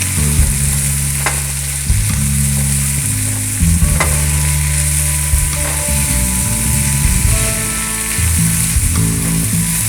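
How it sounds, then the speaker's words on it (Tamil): Mint and coriander leaves sauté in oil for a traditional chicken kuzhambu, giving a loud, continuous sizzle close up, broken by repeated stirring and scraping strokes in the pan. "அதையும் இந்த எண்ணெயிலே நல்லா வதக்கிக்கோங்க."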